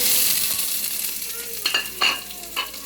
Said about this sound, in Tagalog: Medyo mainit yung ating kawali, kaya ayan, nagtalsikan na.